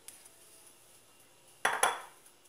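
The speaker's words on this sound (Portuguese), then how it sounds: "Vamos colocar aqui na batedeira." Chocolate cake mix goes into a stand mixer bowl, heard as a short double clatter of the bowl against the mixer near the end, after a quiet stretch.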